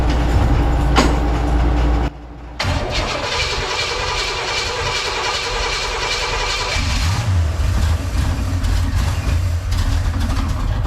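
A 1979 Corvette engine cranks on full choke, a loud, close, continuous churning turnover with a brief drop partway through before cranking resumes and carries on steadily without catching.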